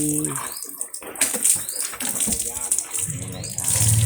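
Water splashing steadily as the elephant Anda bathes, with birds chirping nearby and someone talking over the sound.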